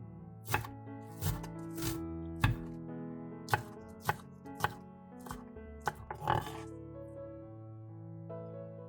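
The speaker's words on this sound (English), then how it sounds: "Cut the green part into small pieces and put it in a separate bowl and set it aside." A knife chops green onion tops into small pieces on a cutting board, giving about a dozen sharp, close knocks in an uneven rhythm over a low tonal hum.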